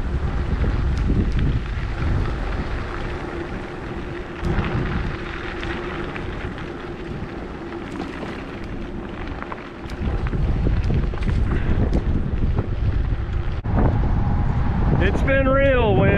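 Strong wind roars across the microphone throughout a bicycle ride on country roads north of Gainesville, Texas, a loud continuous buffeting rush with gusts, and a voice calls out over it.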